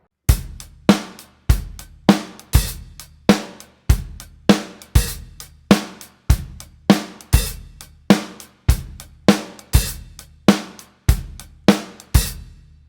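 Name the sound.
drum kit groove with open hi-hats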